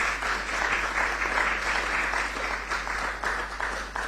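Dense, steady applause from an audience at a public forum on media, hate speech and democracy in Ghana, sustained for several seconds with no voices over it.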